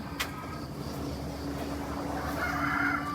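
Chickens clucking and a rooster calling faintly in the background over a steady low hum, with a brief sharp sound near the start.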